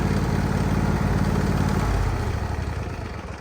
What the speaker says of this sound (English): Idling a little fast.